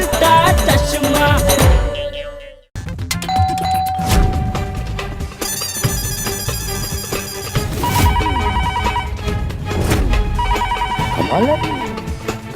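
A home telephone rings unanswered in a Hindi sitcom scene, with repeated electronic ringtone bursts and chimes over background music, and a brief dropout early on.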